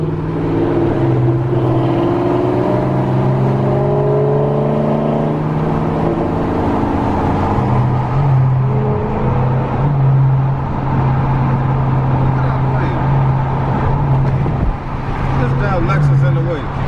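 Dodge Scat Pack muscle cars, Chargers and Challengers at a Mopar car meet, give a steady, loud, deep engine rumble that swells slightly as they pass close by, with a person talking over it.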